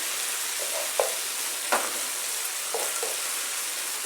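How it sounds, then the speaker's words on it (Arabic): Garlic frying in oil in a pan, a continuous hissing sizzle at close range with a few soft bursts and pops rising above the steady bed. "هنزل الثوم ونسيبه بس يعني ايه شويه ياخد لون"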